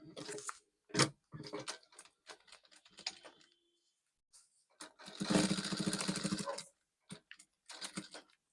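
Sewing machine stitching fabric for a bustier, with short bursts of stop-start stitching broken by silences, then one longer sustained whirring run before more brief clattering spurts, close and clear, with no talking.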